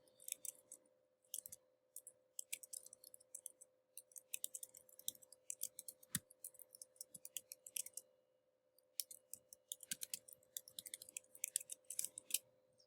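Computer mouse clicks and keyboard tapping while working in a Google Docs document, many small sharp clicks in irregular bursts over a quiet steady hum, close and faint, no voices.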